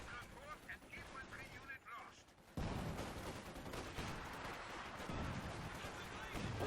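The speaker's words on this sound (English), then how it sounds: "Ooh, the Pack Howitzer doing its work." Pack Howitzer artillery in the real-time strategy game Company of Heroes 2 firing in a loud, dense burst of booming battle noise after a quieter opening stretch, with continuous gunfire and explosions carrying through to the end.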